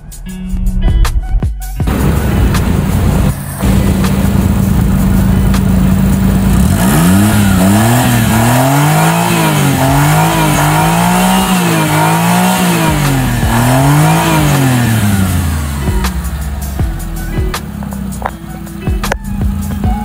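A Suzuki Multicab 4WD engine runs steadily up close, its pitch rising and falling through several revs before settling back to a loud, even idle.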